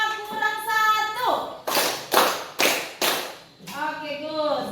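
Children clap a counting pattern in a classroom clapping game, four or five sharp, loud claps in steady rhythm between stretches of voices talking before and after.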